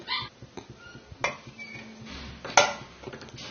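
A cooking pot set down on a stove while making a tamarind curry: three separate metallic clanks and clinks a second or so apart, close by and sharp, with quiet gaps between them.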